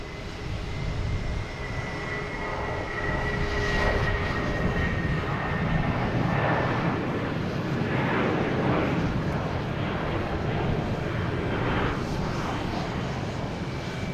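An American Airlines Airbus A319 takes off at Boston Logan Airport. Its jet engines make a broad, sustained roar that swells and holds across the whole stretch, heard from the airport surroundings with no talking.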